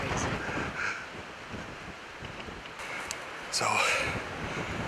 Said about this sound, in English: The wind is blowing terrible